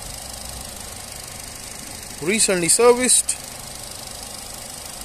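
A 1.6-litre petrol Nissan Note Tekna automatic hatchback, recently serviced and showing 84,000 miles, idles smoothly and steadily at close range, while someone speaks briefly over the engine hum partway through.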